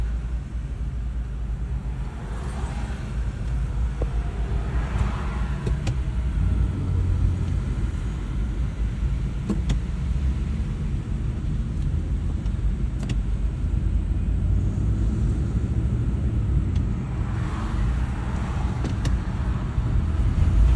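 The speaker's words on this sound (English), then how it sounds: "Traffic is crazy around me." Road traffic on the way to Philadelphia, a steady low rumble of passing cars heard from inside a vehicle, with occasional faint swells and no speech.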